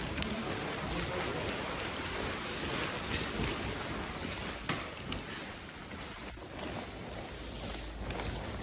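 Steady broadband rush of pressure-washer water running across the concrete floor of an industrial building toward a drain indoors, continuous and fairly loud with no talk.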